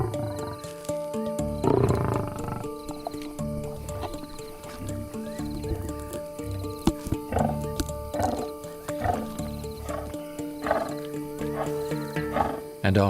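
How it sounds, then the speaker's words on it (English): Lions feeding on a kill at night, loud growls and snarls bursting out repeatedly amid tearing, crunching sounds, close and raucous, with a narrator's voice running over part of it. "Dinner time in a lion family can be a noisy affair."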